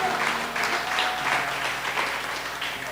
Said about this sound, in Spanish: Ese aplauso está flojo.